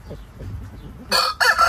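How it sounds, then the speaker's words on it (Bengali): A village rooster kept alongside ducks and hens gives a loud, short crow in two bursts right at the end, after a moment of low, soft clucking. "এটা মোরগ।"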